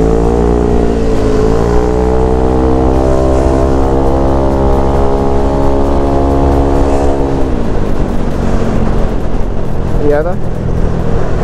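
Bore-up Yamaha NMAX scooter fitted with a Proliner Neo Silent racing exhaust, a loud steady engine drone with a rising then falling pitch under road noise, with a brief spoken remark near the end.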